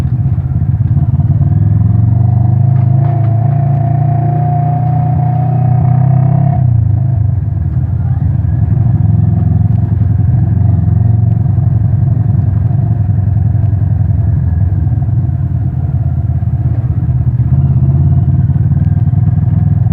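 Motorcycle engine revving and accelerating through lower gears at high RPM, a loud steady close-up drone with a brief pitch shift near the start, then a sustained rumbling hum, no voices.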